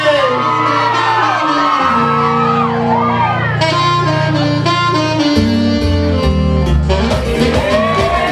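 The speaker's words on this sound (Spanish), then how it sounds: "Esos gritos que se escuchen fuerte." At a dance party with huapango and banda music, a crowd shouts and whoops over loud, continuous band music, with cries surging throughout.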